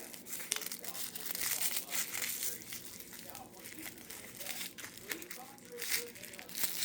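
Packing tape is pulled and torn one-handed from an advent unboxing package, a close, intermittent crinkling and ripping with bursts of tearing, while a person talks faintly.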